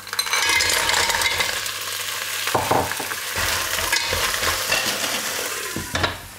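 Cockles hit hot fat with shallot and garlic in a pan, a loud steady sizzle with stirring scrapes and clinks of shells and utensils, no voices.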